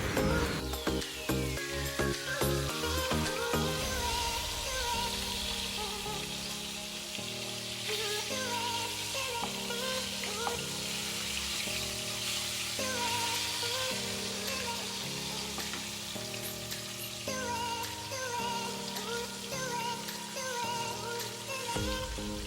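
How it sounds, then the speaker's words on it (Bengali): Hilsa fish fries lightly in hot oil with a steady, continuous sizzle and crackle, heard under a looping background melody throughout. "ইলিশ মাছটা আমি খুব হালকাভাবেই ভেজে নেব"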